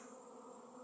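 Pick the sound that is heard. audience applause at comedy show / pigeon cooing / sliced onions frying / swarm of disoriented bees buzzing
swarm of disoriented bees buzzing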